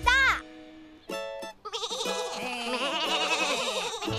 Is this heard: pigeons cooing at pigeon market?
no